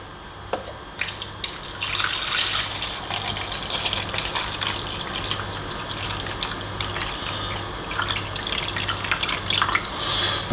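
Filtered water pouring from a tap into a coffee maker reservoir, a steady splashing hiss with bright gurgles and drips, fairly close and continuous for several seconds.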